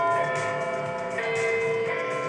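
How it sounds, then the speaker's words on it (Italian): Ringing bells toll in the Wii game Kawasaki Jet Ski, a sustained chime with overlapping tones that rings steadily throughout at a fairly loud level without speech. "Perché le campane da morto."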